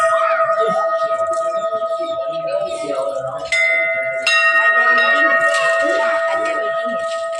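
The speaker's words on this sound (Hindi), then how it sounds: "चीकू कितने अच्छे से घंटी बजा रहा है, बिल्कुल नॉन स्टॉप।" A temple bell at a Hanuman mandir rings nonstop in steady repeated strikes, its bright sustained metallic tones layering loudly over each other, with a second bell joining partway, under a faint background voice.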